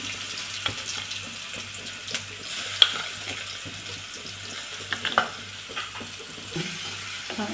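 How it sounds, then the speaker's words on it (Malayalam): Mustard seeds, curry leaves, ginger, garlic and green chili fry in oil for a jackfruit seed pickle, making a low, steady sizzle with occasional soft stirring clicks and pops, fairly faint and without talk. "അതിലേക്ക് വേപ്പില വെച്ച ഇഞ്ചി വെളുത്തുള്ളി പച്ചമുളക് അതും കൂടി ചേർത്തുനിന്ന് നന്നായി മൂത്ത് വരണം"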